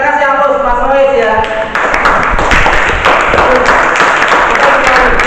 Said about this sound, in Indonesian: Kita kasih aplaus Mas Rois ya